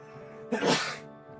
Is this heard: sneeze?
yes